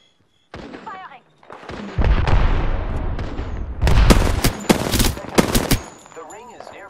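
Gunfire in Apex Legends, bursts of automatic fire and heavy shots crowding together over a few seconds amid other game effects and in-game voice lines, loud and close.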